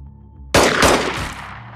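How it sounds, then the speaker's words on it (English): Gunfire erupts in the Xenonauts strategy game, a sudden loud burst of rapid overlapping shots that rings out and decays over about a second, after a quiet low hum. "That's a lot of shooting."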